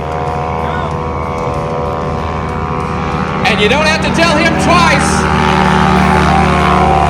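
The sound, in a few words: STOL airplane taking off and climbing steeply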